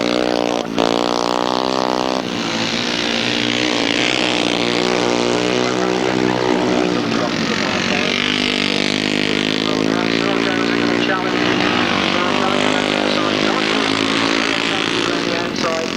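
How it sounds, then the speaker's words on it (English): Two-valve Jawa speedway motorcycle engines race on a grass track, a loud, sustained buzzing howl with rising and falling revs, heard under continuous commentary. "That 2-valve Java sounding superbly"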